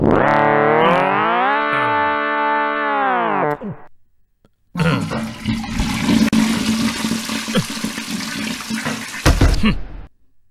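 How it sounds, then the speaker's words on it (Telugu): A toilet flushes with a loud rushing, gurgling surge of water that fills the second half, preceded by a long electronic tonal effect and a brief quiet gap. "అంకిల్ ఫ్లష్ చెయ్యి."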